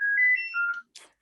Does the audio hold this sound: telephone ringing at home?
yes